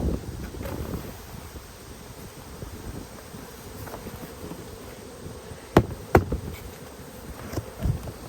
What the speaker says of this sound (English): we've got a lot of bees in this box